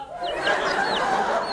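A chicken clucks during a stage magic act, with short squawking calls repeated over a steady bed of noisy room sound.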